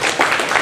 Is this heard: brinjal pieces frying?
no